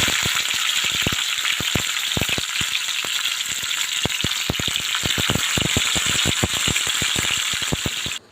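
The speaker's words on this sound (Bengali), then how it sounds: "কুমড়ো পাতার বড়াগুলো দেওয়ার সাথে সাথে তেলটা অনেক ফুটে উঠেছে" Pumpkin-leaf fritters stuffed with chepa dried fish fry in vigorously bubbling oil, giving a loud, dense, continuous sizzle peppered with rapid sharp crackles and pops that cut off abruptly at the end.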